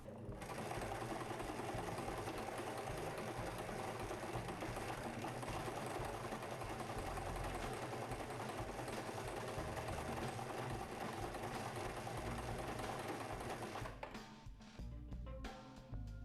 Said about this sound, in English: I'm going to open my seam and top stitch there, but with the zigzag, which is going to be really strong.